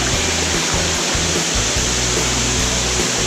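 Aguinid Falls in Samboan, Cebu, Philippines pours in a loud, unbroken roar of rushing water, close and steady throughout with a deep rumbling undertone.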